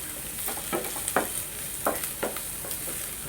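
Chopped ginger and green chillies sauté in a pan, giving a soft continuous sizzle broken by several short scraping stirs of a spatula, close and fairly quiet, with no voices.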